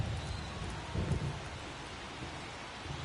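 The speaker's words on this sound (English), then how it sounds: "This rain is not letting up." Steady, dense rainfall pours over a baseball stadium during a Guardians versus Yankees game in MLB The Show 24, a constant hiss with a brief low rumble near the start and no talking.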